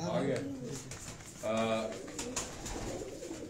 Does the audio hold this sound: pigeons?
yes